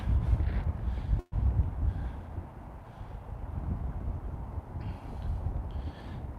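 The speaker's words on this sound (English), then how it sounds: "It's getting a little windy here." Steady wind rumbles and buffets the microphone throughout, a low continuous roar with one brief dropout early on.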